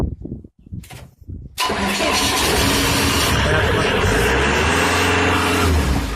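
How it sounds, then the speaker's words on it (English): A fire pump's diesel engine cranks and catches after a few quiet seconds, then settles into a loud, steady roar close by in a fire protection system installation, with faint voices before it fires up. "now we are gonna test the diesel machine"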